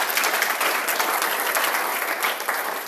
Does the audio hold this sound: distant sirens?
no